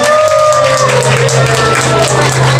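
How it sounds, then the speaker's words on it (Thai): A wedding audience claps for the chairman, a dense, continuous patter of applause from a crowd, with a steady hum and some background voices beneath it. "ขอเสียงปรบมือให้กับท่านประธานครั บ"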